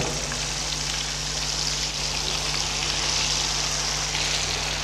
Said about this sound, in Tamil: எண்ணெய் நல்லா சூடானதுக்கப்புறம் இதில் இந்த ஃபிஷ்ஷை எடுத்து ஆட் பண்ணிவிடுங்க.